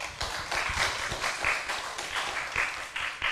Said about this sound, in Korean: 여러분 하나님께 영광의 박수 올립시다